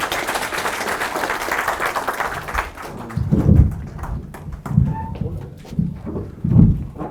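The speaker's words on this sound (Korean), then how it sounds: "사장님 박수로 환영하겠습니다." An audience at a forum lecture claps to welcome the speaker, a former hospital president, with a dense patter of applause that thins into scattered claps alongside low thumping sounds and fades out toward the end.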